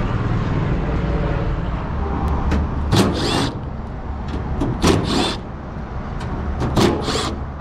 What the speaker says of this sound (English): Let's start by removing those panels.